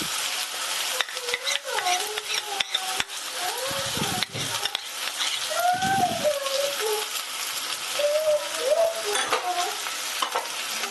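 Onions fried well in a pan with ginger garlic paste being added, giving a steady close sizzle throughout with scraping stir strokes and sharp metallic clinks of a spoon against the pan.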